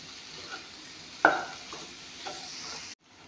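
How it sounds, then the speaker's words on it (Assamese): Raw jackfruit fries with spices in a pan, a soft sizzle with one sharp stirring scrape and a few lighter strokes before it cuts to silence near the end. "এয়া চাওক, ধুনীয়াকৈ মছলাখিনি কঁঠালখিনিৰ লগত ভালদৰে ভাজি ল'লোঁ।"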